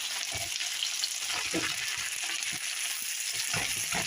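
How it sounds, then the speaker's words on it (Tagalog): Celery and broccoli sizzle steadily in a frying pan with pork, a continuous loud hiss broken by occasional stirring clatter, with no talking. "Ilagay na natin ang broccoli."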